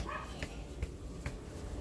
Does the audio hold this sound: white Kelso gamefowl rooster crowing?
no